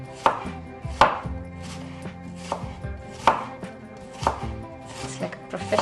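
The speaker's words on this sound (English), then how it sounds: "You're cutting the onions like a pro." A knife chops onions on a cutting board in a home kitchen, sharp knocks landing at an uneven pace about once a second, close and clear.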